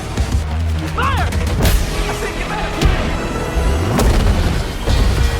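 Buildings being destroyed in the Battlefield 6 video game: loud, dense booms and crumbling debris under continuous gunfire and battle noise, with a voice speaking over the chaos.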